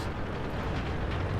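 Car explosion effect from the World of Tanks video game: a short, steady blast of deep rumbling roar, loud and close, with no voices over it.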